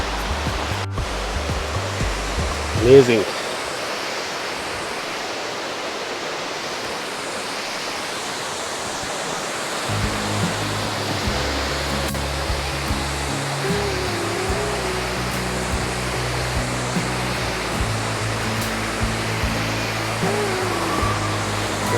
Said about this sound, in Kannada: ಅಷ್ಟೊಂದು ವೈಟಾಗಿ ಈ ನೀರು ಬೀಳ್ತಾ ಇದೆ